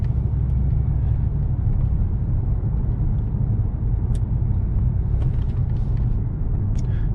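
A 2005–2008 Pontiac Grand Prix GXP, just repaired with a new ignition coil and spark plugs after a misfire, cruising along a service road, its steady low engine and road rumble filling the cabin without pause.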